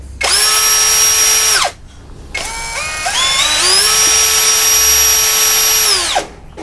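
A Hasston 3075-025 brushless cordless drill whines in two bursts, running with no load. The first burst is short. In the second, the motor pitch steps up through the variable-speed trigger to a high, steady scream, then winds down.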